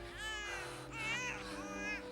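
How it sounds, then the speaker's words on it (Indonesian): An infant cries in a thin, wavering wail, three drawn-out cries separated by short breaths, close and fairly loud over a steady low hum. "Kayak ada suara anak bayi"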